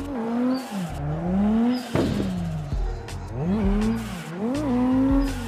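Engine revving and tire squeal from a car drifting on a track in the CarX Drift Racing video game, with the engine pitch rising and falling through repeated slides, loud and continuous over the whole stretch.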